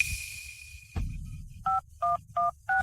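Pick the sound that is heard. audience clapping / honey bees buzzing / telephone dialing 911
telephone dialing 911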